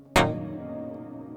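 A single dry piano chord with no reverb is struck once, with several notes sounding together, then ringing out and slowly decaying.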